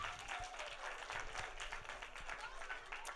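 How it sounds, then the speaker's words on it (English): A crowd applauds at a birthday celebration gathering in Jersey City, a short, fairly faint burst of mixed clapping with some voices and cheers mixed in. "Give her a round of applause."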